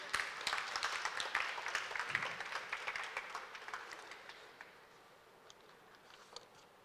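Applause from a lecture audience in a library hall, a steady patter of many hands clapping at moderate distance that thins out and fades toward the end.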